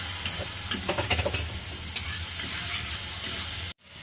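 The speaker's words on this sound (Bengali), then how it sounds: "রসুনটা একটু ভালো করে ভেজে নিই।" Garlic fries in a pan with a close, steady hiss and a quick run of stirring clicks and taps, then cuts off abruptly near the end.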